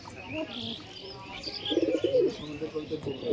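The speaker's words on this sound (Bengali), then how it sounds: "নিচে পায়রা, নিচে বাজি পায়রা, দেখুন কত সুন্দর পায়রাটা" Pigeons, including tumbler and Rampuri birds, coo in a loft with soft, low rolling calls that swell toward the end, alongside faint chirps in the background.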